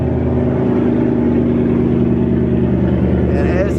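A Ford Mustang GT with a stainless active exhaust set to track mode drones loudly and steadily at idle, close and constant, with a brief higher whine near the end.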